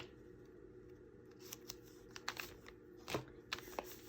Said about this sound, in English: Cut that little piece off.